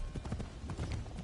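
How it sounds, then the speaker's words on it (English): Rapid clip-clop of horse hooves from riding in Assassin's Creed Shadows, a steady galloping rhythm of close, moderately loud hoofbeats throughout the short stretch. "And my horse is not cooperating."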